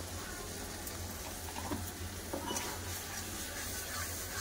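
Masala with amchur powder and garam masala frying in a pan, heard as a steady, even sizzle throughout, with a few faint stirring scrapes and no voices.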